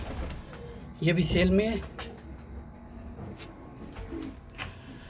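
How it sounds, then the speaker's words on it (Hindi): Bloodline pigeons kept at home for sale give one short, loud cooing burst, followed by softer bird sounds while someone talks nearby. "ये 1000 वाला कबूतर भाई"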